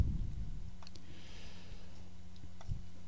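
A computer mouse clicks a few times, faint and sparse, while an email in Microsoft Outlook is recalled through the Actions menu; soft room hiss runs underneath.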